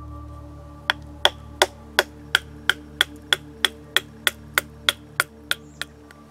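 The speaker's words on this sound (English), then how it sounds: "I want to take my tensioning paddle and baton it in half" Sharp wooden knocks repeat at a steady pace, about fifteen evenly spaced strikes of batoning a wooden paddle in half, close and clear with no talking.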